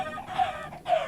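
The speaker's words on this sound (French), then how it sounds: "vous voyez, j'ai mis des poules" Chickens in a Minecraft world give short clucking calls, two brief bird notes in quick succession at moderate volume with no voices.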